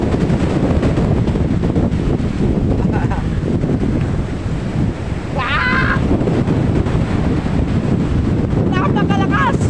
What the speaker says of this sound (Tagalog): Napakalakas ng hangin.